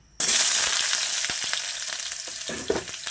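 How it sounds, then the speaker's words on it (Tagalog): Onion and garlic hit hot oil for pork binagoongan, bursting into a sudden loud sizzle that stays strong and slowly eases, with occasional light scrapes of stirring; nobody talks. "nagigisa natin yung sibuyas at bawang"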